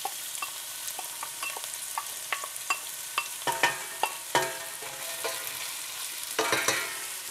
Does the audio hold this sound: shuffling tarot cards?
no